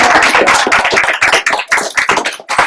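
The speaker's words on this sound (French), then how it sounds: "On l'applaudit." An audience at the launch of a community centre's mutual-aid counter breaks into dense, sustained applause, loud and close, with many overlapping claps filling the whole moment.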